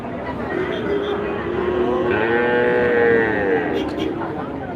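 Calves and cattle moo at the Manapparai cattle market in Trichy district, several drawn-out, rising and falling lowing calls over a constant busy market din, with a voice faintly in the background.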